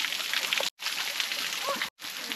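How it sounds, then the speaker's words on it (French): A waterfall on Madeira pours straight onto a hiking trail, producing a steady, hissing rush of falling and splashing water close by, broken by two brief cuts. "on a traversé un passage où il y avait une cascade qui tombait directement sur le sentier de randonnée"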